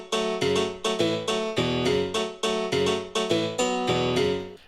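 Layered piano parts spread left, right and center play a bright, rhythmic chord pattern together, repeated struck chords with short decays in a steady pulse, loud and alone.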